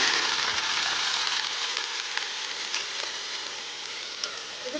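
Soaked basmati rice sizzles in hot ghee in a pan, a steady close hiss with faint crackles and occasional stirring scrapes throughout.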